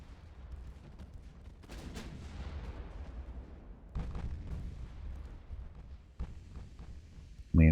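Heavy cruisers fire their naval guns at a battleship in Ultimate Admiral: Dreadnoughts, with repeated deep booming salvos rolling over a constant low rumble and a sharp, loud blast close at the end.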